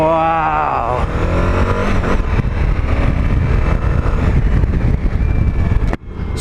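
A 2020 Suzuki V-Strom 1050XT motorcycle engine roars steadily while riding, mixed with loud wind rush. The sound dips sharply for a moment near the end.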